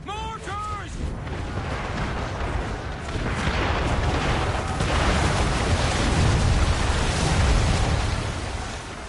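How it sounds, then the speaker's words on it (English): Mortar fire pounds in Assassin's Creed 3, a loud, continuous rumble of explosions and heavy booms lasting the whole stretch, with shouted voices briefly cutting through at the start. "Gotta avoid the mortars, sir!"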